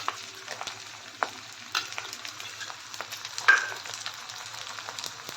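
Ginger, onion and garlic paste sizzles and fries in a pan, with a steady crackling hiss and a few stirring scrapes and clinks, no talk.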